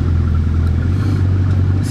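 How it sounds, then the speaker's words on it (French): A Bugatti Chiron's 1500 hp W16 engine rumbles loudly and steadily, a deep, close idle with a low throbbing pulse. "C'est le démarrage d'une Chiron, des 1500 chevaux W16."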